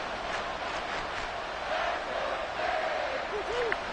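Stadium crowd roaring in the Madden 24 football video game, a dense, steady wash of cheering that holds at an even level throughout, swelling slightly in places.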